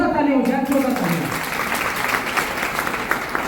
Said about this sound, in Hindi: इनके सम्मान में जोरदार तालियां हो जाए, जोरदार तालियां